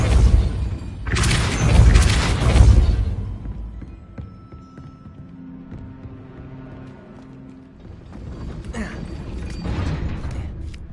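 The Depulso spell fires in the Hogwarts Legacy video game, giving a loud whooshing boom with rumbling mechanical creaks, then a quieter stretch before another rumbling swell; no one talks.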